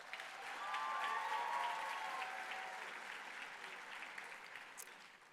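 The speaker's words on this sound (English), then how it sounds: "a big round of applause for Pete Tarsi." An audience at a high school drama festival awards ceremony gives a sustained round of applause. The dense clapping rises and holds steady, sounding somewhat distant and fairly quiet, with no talking over it.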